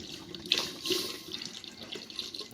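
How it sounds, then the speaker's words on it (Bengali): Amul Gold liquid milk poured into a cooking pot for rice pudding, a soft continuous watery splashing and trickle, close and moderately quiet with no talk. "তো এখানে দেখো লিকুইড দুধটা আমি ঢেলে দিচ্ছি এখানে"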